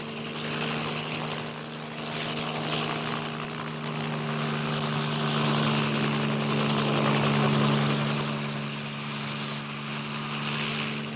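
A US Army aircraft contour flying low over terrain, its engine and propeller drone holding steady and loud for several seconds, swelling slightly midway, with no voices.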